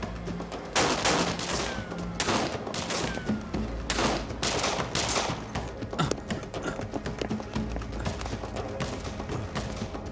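Rapid bursts of gunfire crack repeatedly over a rumbling background, with volleys of shots scattered throughout.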